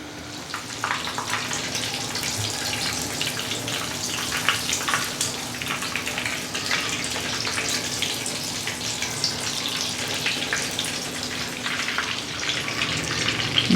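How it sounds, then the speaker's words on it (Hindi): Raw chicken patties fry in hot oil over a medium flame, producing a steady, dense crackling sizzle that stays loud and even throughout, with no talking. "मीडियम फ्लेम पर फ्राई करें।"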